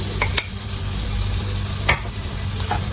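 Yogurt being stirred into softened green chillies in a hot pan, a continuous low sizzle with a few sharp spoon scrapes against the pan, no talking.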